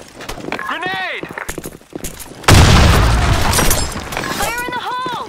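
A grenade goes off in the online shooter BlackShot: a sudden loud boom with a rumbling, noisy tail lasting a couple of seconds, surrounded by game chatter and whooshing effects.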